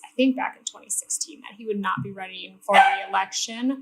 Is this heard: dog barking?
yes